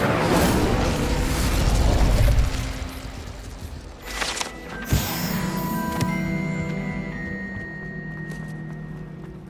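Incendio fire spell cast in Hogwarts Legacy, a loud low booming burst that rumbles and swells, then a sharp pop near the middle followed by crackling magical tones and ringing effects.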